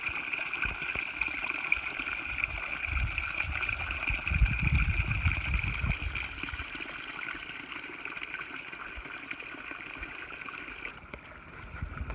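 A creek at the bottom of Hauser Canyon flows steadily, a constant rushing, trickling wash of water heard close and even, with no voices.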